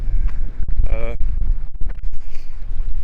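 Strong, cold gusts in Riga, Latvia buffet the microphone with a loud, low roar, while a voice speaks briefly underneath.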